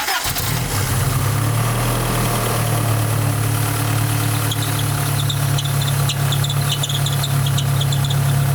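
An old truck engine cranks and starts, then settles into a steady loud idle with a faint high squeak from spilled coolant running over the rumble.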